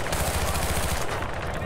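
Rapid automatic gunfire from a weapon in the Battlefield: Bad Company video game, a fast, dense burst of shots at close range that runs loud and continuous before tapering off near the end.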